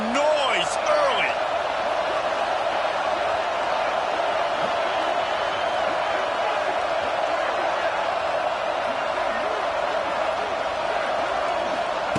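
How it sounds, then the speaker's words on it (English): Stadium crowd in a football video game, a steady roaring murmur of many voices with a few whistles and whoops early on, loud and constant throughout. "This crowd bringing the energy and noise early."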